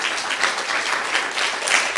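Many people in a church congregation clap together in a steady, dense wave of applause, loud and continuous with gentle swells.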